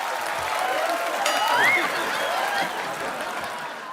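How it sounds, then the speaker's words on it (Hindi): Studio audience applause on a comedy talk show, a steady wash of clapping that swells slightly in the middle and carries on throughout, with a faint voice or whistle cutting through. "जोरदार तालियां"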